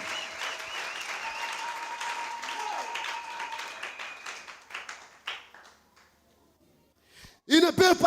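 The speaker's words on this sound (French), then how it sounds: "Acclamez très fort le royaume." A church congregation claps and cheers for several seconds, steady applause that thins out and fades to near silence before a few sharp sounds at the end.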